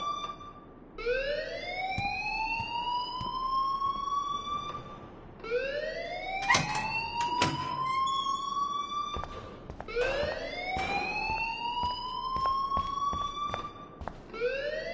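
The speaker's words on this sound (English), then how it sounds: "please turn off that alarm since that's your job." An alarm in the game Life is Strange wails in repeating rising sweeps, each whooping upward and holding before restarting, loud and continuous across the whole stretch with no talk over it.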